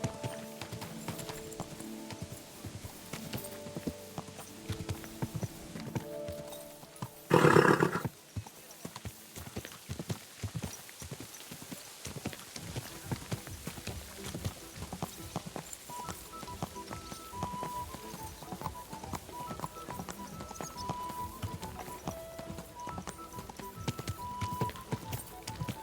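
Hooves clop in a steady walking rhythm as a horse moves along in Kingdom Come: Deliverance, mid-level and continuous, with a brief loud rush of noise early on.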